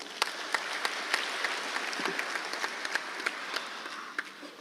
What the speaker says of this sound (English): it deserves your applause once again